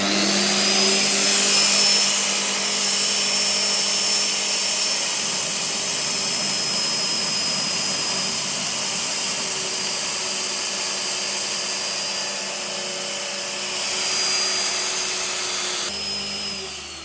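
A magnetic drill cuts into steel with cutting fluid running while a shed frame is fabricated, a loud, sustained whine with a steady high-pitched tone that holds throughout, shifting slightly partway through and near the end.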